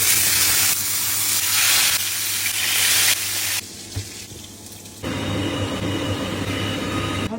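Shrimp hit a smoking hot grill pan coated with a spoonful of oil, giving a loud steady sizzle that surges as they land, with a brief lull before the hiss rises again.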